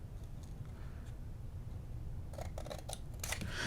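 Scissors trimming a corner off paper for a Dollar Tree stencil storage craft, a few quiet snips and crisp cutting clicks near the end after a stretch of soft handling noise.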